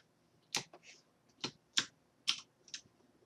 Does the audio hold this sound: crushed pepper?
no